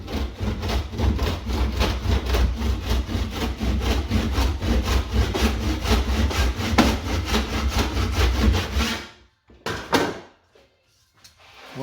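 Hand saw cutting a wooden bead held in a mitre block, a brisk, regular rasp of back-and-forth strokes lasting about nine seconds before stopping, followed by a few quiet knocks.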